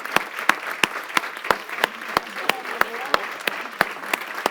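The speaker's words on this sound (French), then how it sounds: "ça mérite une bonne main d'applaudissements." Sparse, separate hand claps at a summit session in honour of the facilitators, a dozen or so sharp, evenly spaced strikes over a quiet room rather than a full ovation.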